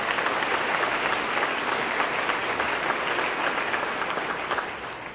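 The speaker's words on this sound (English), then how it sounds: "let's give all our support staff a big round of applause" A banquet audience at a college baseball dinner gives a sustained round of applause for the support staff, steady and full throughout before beginning to fade.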